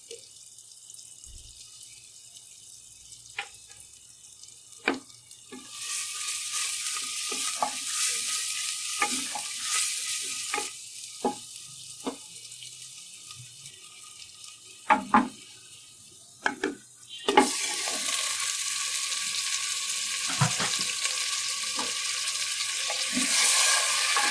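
Black cumin and ginger garlic paste hitting hot oil with beef and onions, a loud close sizzle that surges in two bursts, with spoon clinks and stirring scrapes between them.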